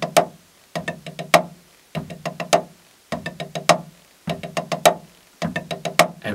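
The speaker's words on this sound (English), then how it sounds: "So a 5 stroke roll," Snare drum plays slow five stroke rolls, each a cluster of quick bounced strokes ending in a sharper accented hit, repeated in evenly spaced groups at close range.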